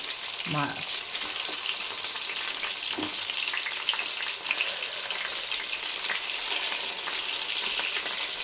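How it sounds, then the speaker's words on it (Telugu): Whole brinjals fry in hot oil on low heat, giving a steady, close, even sizzle and crackle, with a brief voice heard near the start. "ఈ ఆయిల్లో వేసి సిమ్ములో పెట్టి బాగా మగ్గనివ్వాలండి"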